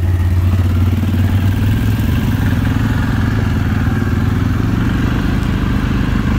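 A Can-Am Outlander 570 or Suzuki KingQuad ATV on a Kentucky trail, with a loud, close, steady engine chug and a rumbling exhaust, plus light clatter from the machine, and no voices.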